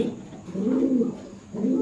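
An imported Kuwaiti pigeon coos close by in two rounded, throaty phrases separated by a short pause, clear and alone.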